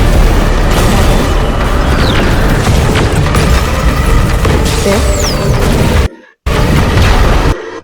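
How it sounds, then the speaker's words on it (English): Loud, continuous rumble of explosions from the animated series Skibidi Toilet, heavy booms blending into a dense roar, cutting out briefly near the end before resuming. "Just a lot of explosions."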